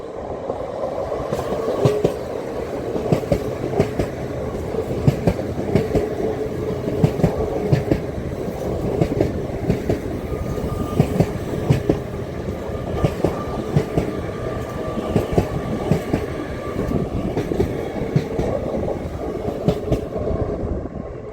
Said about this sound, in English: coming in, on platform 4 is looks like it's a Zoomer LNER service.